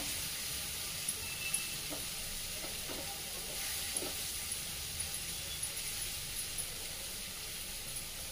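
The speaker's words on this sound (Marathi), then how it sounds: "आता आपण हे सगळं साहित्य छान परतून घेऊया" Spices with red chili powder sautéing in a pan for a dry cluster bean (gavar) stir-fry, giving a steady broad sizzle with faint stirring clicks throughout and no talking.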